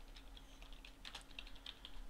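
Keys tapped on a computer keyboard while writing C++ code, a scattered run of quiet clicks at uneven pace, faint and alone against low background hum.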